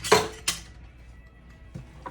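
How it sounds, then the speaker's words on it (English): A big spoon stirring cornbread dressing in a bowl, with a few separate scrapes and knocks against the dish spaced out between quiet pauses. "Stir that up a little bit."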